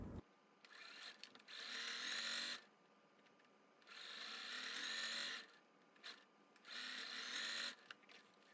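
Quilt block seams are chain-stitched on a sewing machine in three steady, motor-driven runs, each a few seconds long, separated by brief quiet pauses and small handling clicks.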